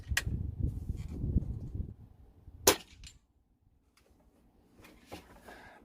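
A Kral Puncher Breaker PCP air rifle on high-pressure air fires 40-grain .22 caliber slugs, one sharp close crack after a stretch of low rumble, followed by quiet handling clicks.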